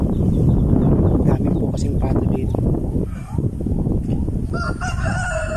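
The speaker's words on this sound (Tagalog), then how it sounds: "Daming po kasing pato dito." Dense, loud chorus of poultry calls at a duck farm in Buluang and Santa Teresita, continuous overlapping quacking and squawking close by, with a crowing-like cry near the end.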